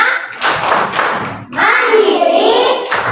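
Children in an Indonesian primary classroom perform a rhythmic class clap chant, with bursts of clapping and voices chanting along in quick patterns, loud and close.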